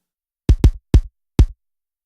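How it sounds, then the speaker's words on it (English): A single kick drum plays alone, four dry, punchy low thumps in a short syncopated pattern, two close together, then two spaced out, each decaying quickly into silence. "So if we just hear the first kick alone,"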